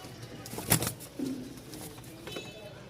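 Fancy pigeons, such as Pakistani Lahore and Danish breeds, give a single soft, low coo at close range, followed by a faint rustle of movement in an otherwise quiet space.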